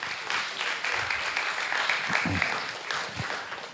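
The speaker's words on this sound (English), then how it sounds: "Yeah, you can clap for that." Church congregation applauding after a baptism announcement, a short burst of steady clapping from a crowd across the room, with a few faint voices mixed in.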